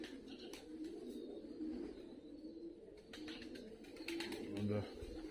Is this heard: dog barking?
no